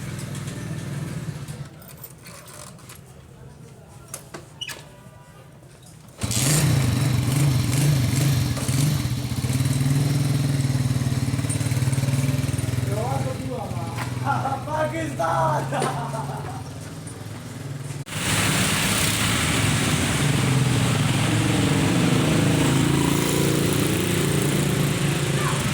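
A scooter running low on petrol: after a quieter stretch with people talking, its engine bursts into a loud, rough drone, dips briefly, then roars again, with voices heard over it.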